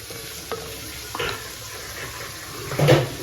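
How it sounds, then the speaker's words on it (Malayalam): Onions with a few dried chillies are stirred and sautéed in a pan for an omelette curry, giving a soft sizzle with a few scraping stirs and a louder clatter near the end. "സബോള നല്ലവണ്ണം ഇളക്കി ആ സബോള ഒന്ന് വഴന്ന് വരട്ടെ"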